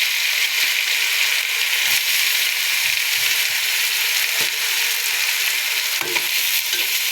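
Thinly sliced onions fry in hot oil for a chicken biryani, giving a steady, loud crackling sizzle throughout with occasional soft stirring knocks, and no voices.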